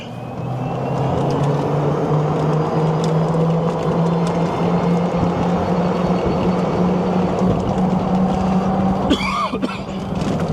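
Club Car electric golf cart converted to a lithium battery and fitted with big knobby tires, driving with a loud steady road rumble and tire drone close by, a brief cough or bump near the end.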